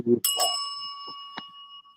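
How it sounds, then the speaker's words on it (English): A small handheld bell rings a single clear ding that hangs and decays over about a second, with brief rustling and clicks around it and a faint second tap near the end. "Oh, I got my bell back."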